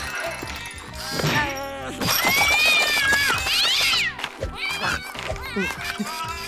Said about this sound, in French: lave et shampooine votre chat, sans aucune intervention de votre part